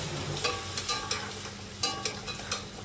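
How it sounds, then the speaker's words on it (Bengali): Taro stems frying in oil in a pan, a steady close sizzle with a few sharper clinks and scrapes of stirring scattered through it. No one speaks. "গাঠিগুলোকে আগে ভেজে তুলে নেব"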